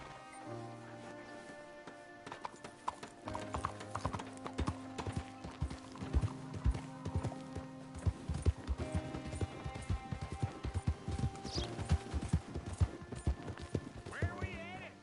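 Rhythmic horse hooves clip-clopping at a steady trot in Red Dead Redemption, with game music and occasional voices layered over the steps.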